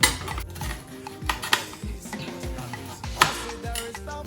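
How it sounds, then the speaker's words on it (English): A knife cuts onions into eighths on a board with a quick series of close, sharp chops and clicks, some ringing metallic taps between them, and no talking. "I will cut my onions in 8 halves"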